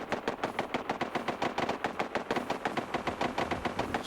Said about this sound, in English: What guns is going off now?